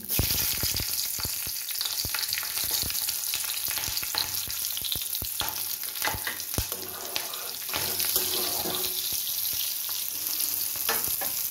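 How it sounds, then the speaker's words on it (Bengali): Nigella seeds and a green chilli tempering in hot oil left from frying fish, giving a steady, close, loud sizzle with sharp crackles and pops scattered through it, with no talking. "এবার এই মাছ ভাজার তেলেই আমি কালো জিরে আর একটা কাঁচা লঙ্কা ফোড়ন দিয়ে দিচ্ছি।"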